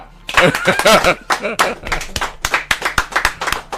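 Rhythmic hand clapping from a crowd at a Yoruba-language gathering: sharp, evenly spaced claps fill the second half, while someone talks loudly over the opening.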